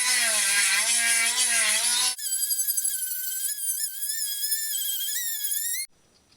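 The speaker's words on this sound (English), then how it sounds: "so we make use of the Dremel tool" A Dremel rotary tool strips paint from aluminium vintage caravan parts, a loud, high, steady whine that changes pitch as it bears on the metal, then cuts off abruptly near the end.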